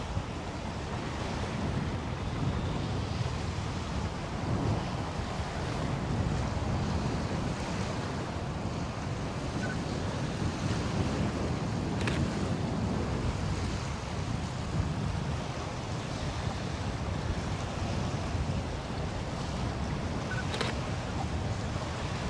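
Wind gusts across the Gulf Islands National Seashore in the Okaloosa area of Florida, a constant rushing roar with buffeting on the microphone and waves washing in beneath it, steady throughout.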